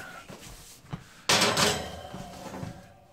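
Oven door and metal rack handled in a home kitchen, soft knocks followed by a louder sliding, rattling clatter, close by, no talk.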